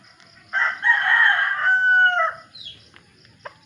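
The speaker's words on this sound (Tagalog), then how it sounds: "Marami ring manok dito. Ayan, manok." A rooster crows once, loud and nearby, followed by a few soft clucks from chickens in an otherwise quiet setting.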